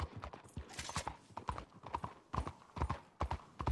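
A horse gallops in the video game Red Dead Redemption 2, its hooves making rapid, rhythmic clip-clop beats that repeat steadily and sound close.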